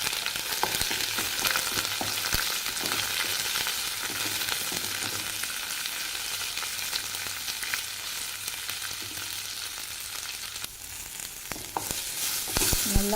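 Cut tomato sautés in a hot pan for a ridge gourd peel dish, making a long, even frying hiss at moderate volume, with a few sharp stirring clicks toward the end.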